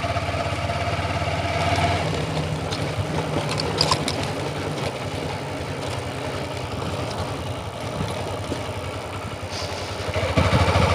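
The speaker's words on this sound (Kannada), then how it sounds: "ಇಂಥ ರೋಡಲ್ಲಿ 3-4 ಗೇರಲ್ಲಿ ಹೋಗೋಕ್ಕಿಂತ ನಮ್ಮದು 5ನೇ ಗೇರಲ್ಲಿ ನುಗ್ಗುತ್ತೆ ಗಾಡಿ" A motorcycle engine pulling steadily in fifth gear on a rough road, a continuous close mid-pitched drone with slight clatter and a brief rise near the end, no talk over it.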